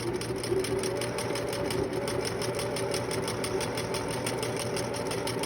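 A sewing machine back-stitches the seam of a homemade fabric face mask, its needle running in a fast, steady mechanical chatter that stays close and continuous throughout, with no talk.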